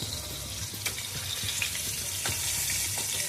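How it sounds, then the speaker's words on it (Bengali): Koi fish fry in hot oil in a pan, a steady crackling sizzle with occasional sharper pops, close and continuous with no voices. "মাছটা এবার ভেজে নেব।"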